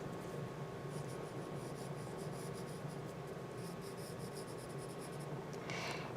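Light pencil strokes on a paper eye-drawing worksheet, a soft continuous scratching rub in short repeated passes, faint and close, with no talking.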